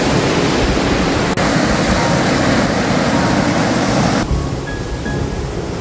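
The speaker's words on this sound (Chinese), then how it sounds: "这里是龙凤谷瀑布" Longfeng Valley waterfall in Alishan, Chiayi, roars as a dense, steady, close rush of falling water that fills the whole clip without letup.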